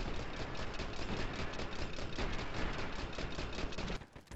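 Sustained automatic weapon fire from the Dirty Bomb first-person shooter game, a steady rattling stream of shots aimed at an enemy, loud and unbroken for about four seconds before cutting off abruptly.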